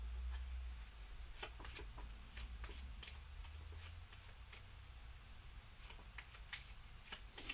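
Rapid riffling of board-game cards being shuffled up close, several quick bursts of flicking and snapping with no talking.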